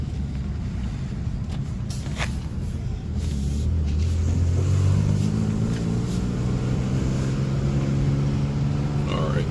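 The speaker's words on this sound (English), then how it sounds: "I'm still having a little bit of like a sputtering issue" Boosted BMW E36 engine revving with a sputtering fault, a low uneven rumble that swells into louder, rising revs halfway through, with a voice speaking faintly over it.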